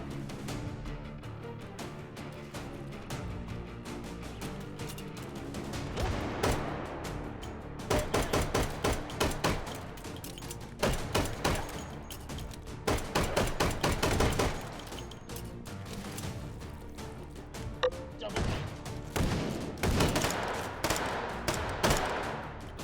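Rapid, sharp gunfire bursts crack through a video game shootout in H3VR, mixing a big Raging Bull revolver with other weapons, loud and dense in clustered volleys over a busy background.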